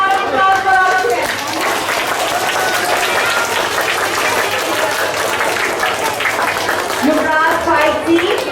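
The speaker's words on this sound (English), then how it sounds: "round of applause for all of them" A school assembly audience claps for award winners at a Mother's Day program, sustained and fairly loud, with a voice speaking over the start and again near the close.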